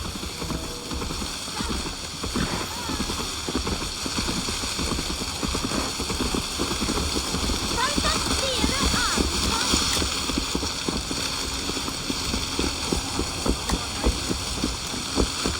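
Horse hooves clip-clop steadily in the Assassin's Creed Valhalla video game, a continuous rhythmic trot under a dense bed of game ambience and hum, moderately loud throughout.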